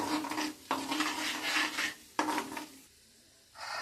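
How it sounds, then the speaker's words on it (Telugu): Urad dal and cumin seeds frying and stirred in a pan for a ridge gourd and moong dal curry, with scraping and clinking bursts of a utensil against metal, pausing briefly, close and moderately loud with no talking. "మినపప్పు జీలకర్ర వేసుకుని కొంచెం ఫ్రై ఫ్రై చేసుకోవాలండి"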